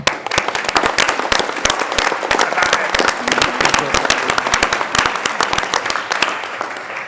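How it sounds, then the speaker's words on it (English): An audience at a committee of the whole meeting applauds two people being acknowledged, loud dense clapping with sharp individual claps standing out throughout, some voices mixed in. "I will allow applause this time around for Sarah and Matt"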